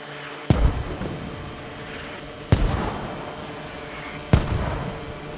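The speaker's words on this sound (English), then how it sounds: "with the blast radius of the mortars being around 20 meters, anybody in this whole compound is going to be suppressed" Mortar shells explode in the military shooter game Squad, three sharp booming blasts spaced about two seconds apart, each followed by a rolling rumble that fades into steady background ambience.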